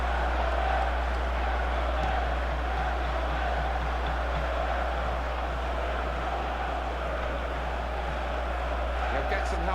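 A simulated stadium crowd in the football game FIFA 14 murmurs and roars continuously beneath a commentator's voice, with a steady low hum running throughout.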